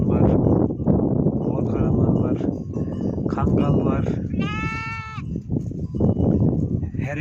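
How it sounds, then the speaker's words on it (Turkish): Sheep of several breeds, including Merino and Akkaraman, grazing in a wheat field, with one clear close bleat midway through over constant talking and rustling. "burada 10 farklı cins koyun var arkadaşlar"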